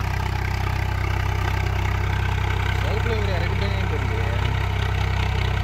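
Swaraj 744 FE tractor on radial Yokohama tyres pulling a 5-ton cultivator, a continuous heavy low engine rumble under load, steady and close throughout, with faint voices talking underneath.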